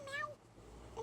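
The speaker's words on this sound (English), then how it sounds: "My little fat cat." A fat domestic cat gives a single short, fairly quiet meow, lasting well under a second against a faint room background.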